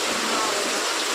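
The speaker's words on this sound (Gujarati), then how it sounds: "તો હવે વરસાદ એ રોકાતો નથી ભાઈ, એક ધારો ચાલુ છે." Heavy rain pours steadily through the night during a storm, a dense, unbroken hiss of falling water that stays loud and constant throughout.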